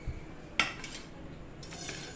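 A metal pressure cooker pot is set down and handled in a kitchen, giving a couple of sharp clinks and a clatter over a quiet background.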